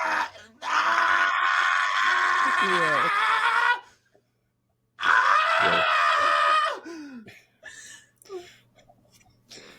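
Voices imitate a cacophony of screams from decaying plants during a fantasy tabletop game, with two long sustained wailing bursts broken by a pause and followed by a short spoken word and softer vocal sounds.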